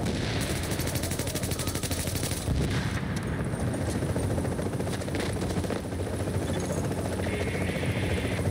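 Helicopter in the video game The Division, a steady dense rotor roar running throughout amid heavy gunfire and machine-gun bursts, loud and continuous with no talking.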